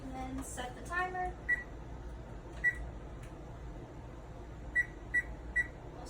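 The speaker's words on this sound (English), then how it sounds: "No, it's best to set the microwave." Microwave keypad buttons pressed to set a timer, giving several short, clear electronic beeps spaced irregularly over a low room hum, with a brief voice near the start.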